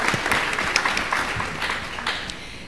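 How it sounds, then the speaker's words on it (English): Audience at the Pampered & Pink event at Audubon Zoo claps for a panel of medical experts, a dense round of applause from a sizeable crowd, steady and gradually easing over a couple of seconds. "Give our panel of experts a round of applause"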